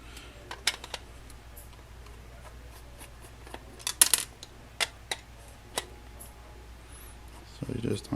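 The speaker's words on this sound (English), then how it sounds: "So you just unscrew them like so." Screws being unscrewed from a Sega Genesis cartridge: scattered sharp metallic clicks and ticks close by, with faint scraping between them and brief handling noise at the end.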